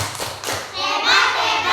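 Children in a Year 5 classroom clapping and cheering together, a few scattered claps and thumps building into a loud, close burst of mixed applause and young voices.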